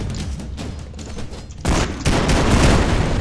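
Rapid chain gun fire in the side-scrolling action game Expendabros, a dense continuous burst that grows louder and heavier partway through, with booming impacts mixed in.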